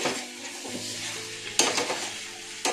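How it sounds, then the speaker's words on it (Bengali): Chicken dopeyanja being stirred in a frying pan, a steady close sizzle with scraping spatula strokes and a couple of sharper clanks against the pan, no talking. "ভালো করে আরেকবার নাড়িয়ে দিই বন্ধুরা"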